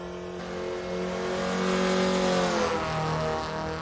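Racing game engine of a Mini Cooper B16 in Assetto Corsa EVO revs steadily, pitch rising then easing slightly as the car drives through a corner, continuous and fairly close with no talking.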